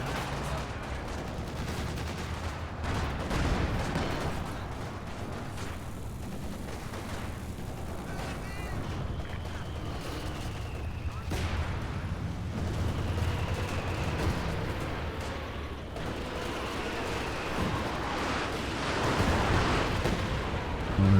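An artillery barrage in a World War II strategy game thunders on, with continuous rumbling blasts and scattered shot cracks layered over a steady low roar throughout.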